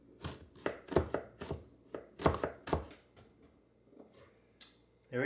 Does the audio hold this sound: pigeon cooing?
no